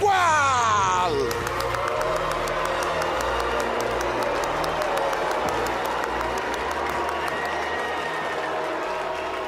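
A comedy show audience bursts into sustained applause and cheering for a guest introduced as the world's worst tennis player, loud dense clapping filling the room at a steady level with scattered whoops.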